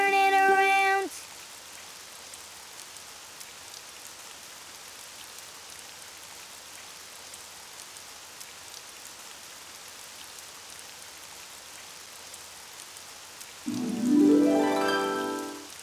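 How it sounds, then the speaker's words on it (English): Steady rain pattering outside, a soft even wash of drops that runs on for the whole stretch, with brief musical sounds at the start and end. "Oh, it's raining outside."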